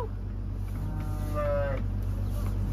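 A cow moos once in a drawn-out, rising-and-falling call on a farm near a straw pile, set against a steady low hum of farm machinery or ventilation, with no talking over it.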